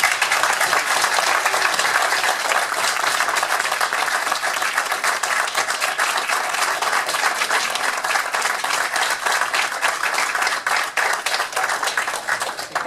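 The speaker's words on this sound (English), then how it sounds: "please join me in a round of applause" Sustained applause from a city commission meeting audience honoring a new city lineman, dense steady clapping filling the room for the whole stretch without a break, loud and close.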